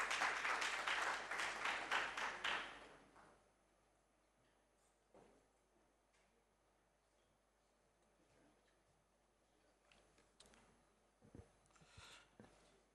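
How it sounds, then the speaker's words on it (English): An audience at a formal event applauds to welcome the Stanbic Bank chief executive, with loud clapping for about three seconds that then dies away into a quiet room where a few faint claps and small noises remain. "let's welcome him with a round of applause"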